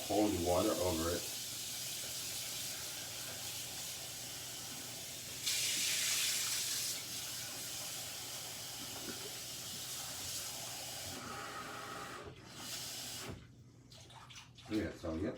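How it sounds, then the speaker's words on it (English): Cold tap water running from a faucet over boiled salt codfish in a kitchen sink, a steady splashing rush that swells midway, with some voice and handling clatter near the end. "I'm going to run some cold water over it."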